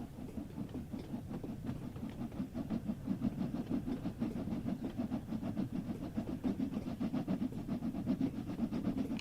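A steam locomotive pulls away on the Peak Forest Railway in Train Sim World 3, a low, steady chuffing rumble with faint rhythmic beats and mechanical clatter that build gradually. No voices are heard.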